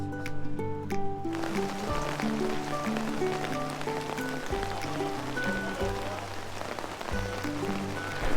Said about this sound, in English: it is raining hard And hailing.